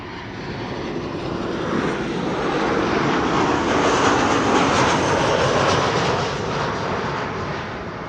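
A jet airplane at Amsterdam Schiphol Airport, a loud broad engine roar that swells and then slightly recedes, steady and close with no voices.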